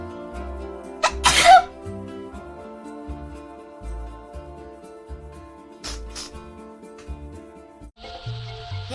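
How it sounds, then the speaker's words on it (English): A single sharp sneeze bursts out near the start from a woman playing a video game, loud and close, followed by quieter background music and game sounds. "then I have to sneeze"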